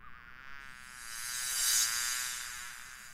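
Insects buzz near a honeycomb outdoors, a steady close droning hum that swells louder toward the middle and then eases off, with no voices over it.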